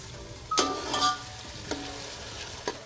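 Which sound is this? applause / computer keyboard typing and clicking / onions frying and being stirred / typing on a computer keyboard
onions frying and being stirred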